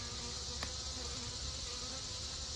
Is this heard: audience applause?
no